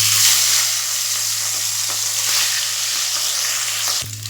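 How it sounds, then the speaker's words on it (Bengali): Pomfret fish frying in hot oil in a wok, a loud continuous close sizzle with a low steady hum beneath, ending abruptly near the close. "এবারে মাছগুলো একটু ভেজে নেব।"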